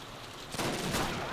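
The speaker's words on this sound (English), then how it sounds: "Stop shooting at me." Gunfire aimed at the player in Call of Duty: United Offensive, a dense, loud rattle of shots that swells about halfway through and runs on continuously.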